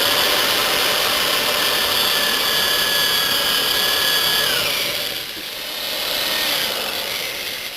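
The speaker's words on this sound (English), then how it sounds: "So the next thing we're going to do is we're going to drill the holes in the top." Power drill boring holes through the plastic top of a lead acid battery being reconditioned, a steady loud whine with a shifting pitch for most of the stretch, easing briefly near the end, with no talk.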